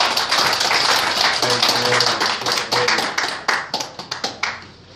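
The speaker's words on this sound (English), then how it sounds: "Let's give the Lord a big hand clap." A church congregation gives a big round of hand clapping in a Sunday morning service, loud and dense at first, then thinning into a few scattered, separate claps as it dies away.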